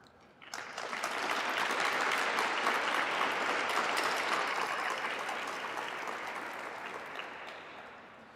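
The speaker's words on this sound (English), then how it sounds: "You all deserve a round of applause." An audience at a website launch event breaks into a round of applause, steady dense clapping swelling quickly after a brief start, holding loud for several seconds and then slowly tapering.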